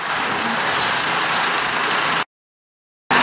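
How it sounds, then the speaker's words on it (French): A semi-truck tractor backs up beneath a trailer to hitch it in an open car park, its engine running loud and steady, then stopping abruptly for a short silence before returning. "Pour accrocher une remorque, nous allons d'abord présenter le tracteur sous la remorque"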